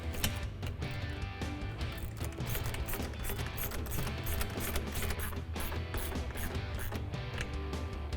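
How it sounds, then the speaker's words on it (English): An 11mm socket on a ratchet snugging a clamp on a Mustang EcoBoost cold air intake, a continuous run of fine rapid ticking, close and fairly quiet, without pauses. "we're going to use our 11mm socket"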